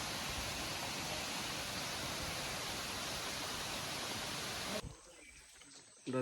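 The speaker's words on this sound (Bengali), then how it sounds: "এটা হচ্ছে আর একটা ঝিরি সবাই নামতেছে" A small mountain stream in the Bandarban hills rushes in a steady, full watery wash that drops suddenly near the end to a quieter background.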